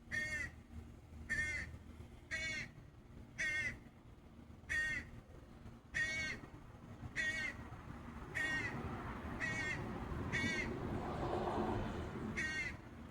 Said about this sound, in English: There's a bird up there.